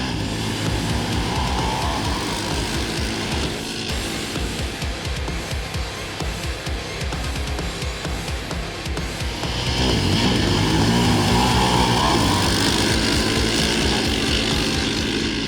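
Two sport ATVs, a Can-Am Renegade 1000R and a Yamaha Raptor 700R, race from the start line. Their engines give a continuous loud roar that grows fuller and stronger partway through.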